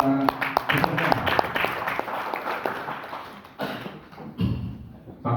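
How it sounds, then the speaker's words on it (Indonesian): Audience applause for participants in a provincial Qur'an quiz competition in South Kalimantan, with scattered sharp claps and thumps that thin out, followed by a brief swell of noise near the end. "beri tepuk tangan untuk para peserta."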